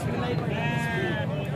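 Goat bleating at a livestock market, a single wavering bleat up close with crowd chatter and voices in the background.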